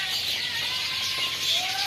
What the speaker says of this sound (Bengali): এই যে পাখি কিভাবে ডাকে